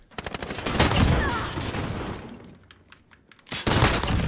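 Rapid bursts of FAL rifle fire in a first-person shooter game, loud and close, with a busy spell of shots, a brief lull, then another burst near the end.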